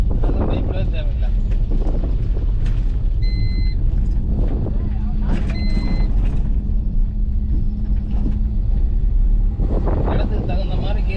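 A car driving along a bumpy village road gives a steady low engine rumble and road noise, buffeted by wind, with a few brief knocks and tones and someone talking over it.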